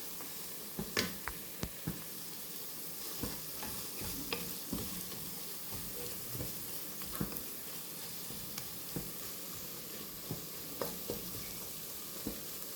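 Food frying in a pan of plenty of oil, a steady soft sizzle broken by sharp clicks and scrapes as a utensil stirs it, close and moderately quiet with no talking.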